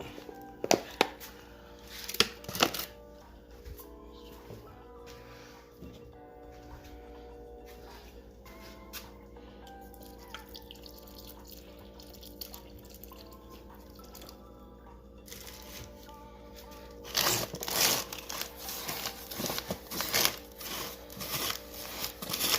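Damp egg-laying substrate for uromastyx being wetted and stirred by hand in a container, soft close scraping and dripping, quiet with bursts of louder rustling toward the end.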